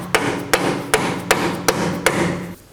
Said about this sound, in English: I'm going to tap it in place with a rubber mallet, making sure my holes are aligned with the holes on the subframe